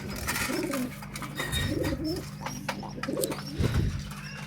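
Pigeons coo close by on a balcony, several soft throaty calls repeating every second or so over a low background hum.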